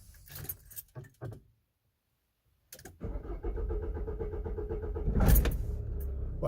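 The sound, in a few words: car engine restarting, Delphi injection pump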